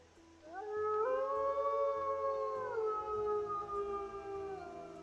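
A dog in the Skyrim video game lets out a single long, wavering howl that rises, holds and slowly fades, heard clearly over faint background sound.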